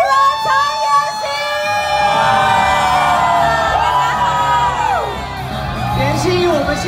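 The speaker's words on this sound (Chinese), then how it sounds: "让我们用热情欢呼声，有请神魔之塔的代言人陈妍希" A crowd at a gaming expo cheers, whoops and shouts to welcome a spokesperson on stage, a loud sustained roar of voices with high yells rising over it.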